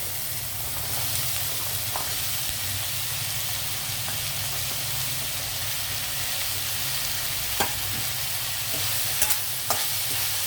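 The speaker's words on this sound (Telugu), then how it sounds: "ఆనియన్ ఇలా వేగేటప్పుడే మనం ఇందులో చిక్కడికాయలు వేసేద్దాం" Onions frying in a pan as broad beans are added, a dense, even sizzling hiss throughout, with a few faint clinks and taps toward the end, close and without talking.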